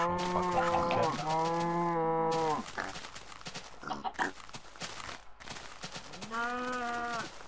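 Several blocky cows in Minecraft moo in long, loud calls, two back-to-back at the start and another near the end, with quieter game sounds in the gaps between.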